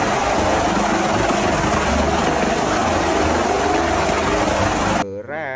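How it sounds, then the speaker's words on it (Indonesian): A toy helicopter whirs with a loud, continuous buzzing rotor drone that runs steadily before stopping abruptly near the end. "lihat teman-teman, di sini ada helikopter"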